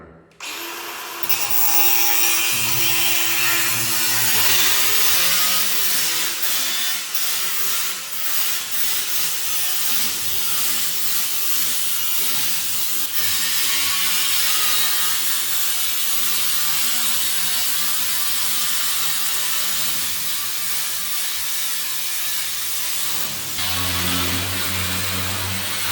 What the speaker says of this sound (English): Right, let's try a normal grinder.